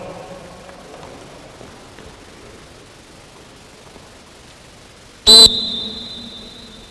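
A coach gives one sharp, loud whistle blast that rings briefly over a steady hiss of background noise, with no other prominent sounds around it.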